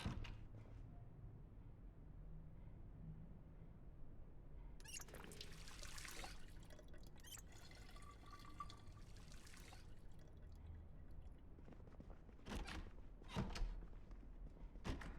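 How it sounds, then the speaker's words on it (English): A water bottle filling in the video game Project Zomboid, a faint trickling pour over quiet background ambience, with a few soft knocks near the end. "Top off our water."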